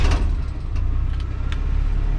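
A car engine idles steadily after starting, a loud, continuous low rumble filling the short stretch with a few faint higher clicks over it.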